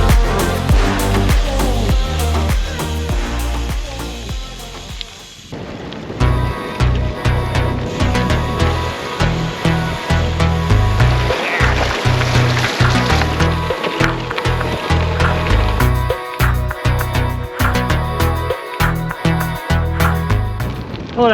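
Heavy wind buffets the microphone throughout on a gravel cycling ride through a Scottish glen, a loud rumbling roar that drops briefly and then surges back in repeated gusts.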